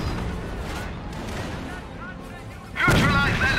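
Enemy tank cannon fire in the World War II strategy game Company of Heroes, Operation Market Garden, rumbling battle din with a heavy blast near the end, under spoken voices.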